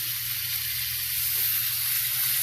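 A ribeye steak sizzles loudly in a hot pan as it is flipped, a continuous close hiss of frying fat holding steady throughout.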